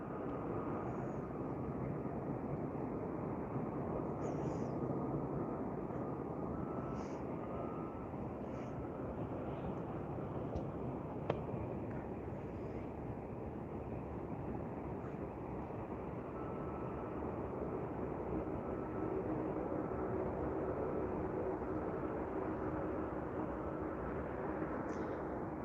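An airliner landing at Vancouver International Airport, heard as a steady, broad engine roar that holds at fairly even loudness throughout, with no talk over it.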